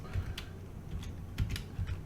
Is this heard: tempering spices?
no